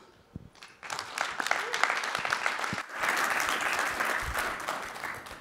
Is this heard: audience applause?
yes